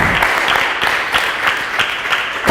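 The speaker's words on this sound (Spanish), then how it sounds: "Démosle un aplauso al Señor." A church congregation claps steadily in praise, a dense, even wash of applause with soft voices underneath, close and sustained through the short moment.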